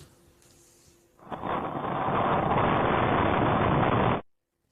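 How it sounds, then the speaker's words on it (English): Intense tornado storm winds in the Houston area, a sudden loud broadband roar that rises and holds steady for about three seconds before cutting off abruptly. "You can hear just how intense those winds were as damaging storms moved right through that city."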